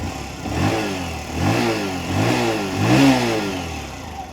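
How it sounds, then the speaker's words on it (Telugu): A 2025 Bajaj Platina 100 motorcycle runs close up, its 100 cc engine and exhaust rising and falling in several short rev pulses, steady and fairly loud with no one talking. "ఎలాగ ఇంజన్ స్టార్ట్ చేసాం కాబట్టి ఎగ్జాస్ట్ సౌండ్ అయితే మీకు వినిపిస్తుంది చూడండి"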